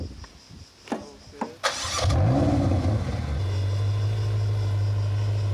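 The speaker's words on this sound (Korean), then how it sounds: "거대한 엔진 소리가 나를 들뜨게 만들었다." A car engine starts with a sharp burst, then revs up and settles into a loud, steady throaty idle close by. It is a supercar offered for paid test drives in Emilia-Romagna, Italy. A few clicks and knocks come just before the start.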